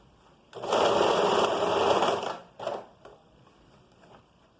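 A sewing machine runs along a sleeve seam in one close, steady burst of about two seconds, followed by a short second spurt and a few faint clicks as it stops.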